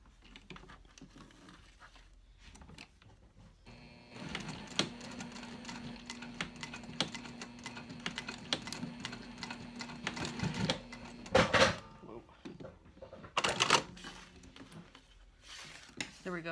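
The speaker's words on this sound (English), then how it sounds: "I'm going to go to the machine and I'm just going to stitch right down this edge here" A sewing machine stitches down the edge of a backpack beside the zipper, running in one steady, fairly close mechanical whir for about seven seconds, with softer handling noises before and after.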